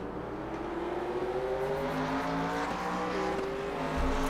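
Race cars roar around the Mid Ohio circuit, engines revving and rising in pitch as they pass, loud and continuous with overlapping engine tones.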